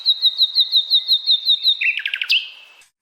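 A nightingale sings alone and close, a run of about a dozen evenly spaced, sweet whistled notes, then a quick burst of rapid buzzy trills and a sharp upward flourish that fades out.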